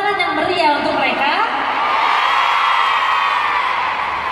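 At a concert in Jakarta, a large audience screams and whoops in loud, high-pitched waves that swell and hold as one continuous roar of cheering.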